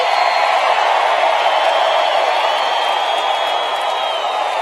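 A large rally crowd at a presidential campaign event in Biloxi, Mississippi, roaring and cheering in a dense, sustained wall of noise that holds steady throughout with no talk above it.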